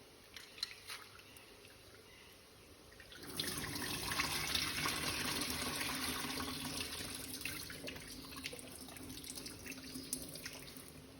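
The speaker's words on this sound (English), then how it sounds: "just rinse it off" Tap water runs steadily into a sink as lentils are rinsed in a kitchen, starting quietly and then gushing louder partway through, with small splashes and sloshing close by and no talk.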